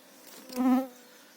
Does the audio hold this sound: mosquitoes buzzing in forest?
yes